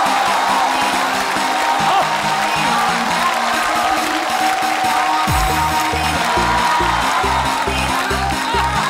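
A studio audience at a neighbourhood talent contest on a comedy sitcom stage breaks into sustained applause and cheering, a loud continuous wash of clapping with background music thumping underneath throughout.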